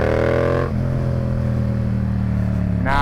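Kawasaki 636 sport motorcycle in third gear, loud and close, its engine dropping briefly near the start as the gear changes, then pulling steadily with a harsh droning note that climbs again at the end.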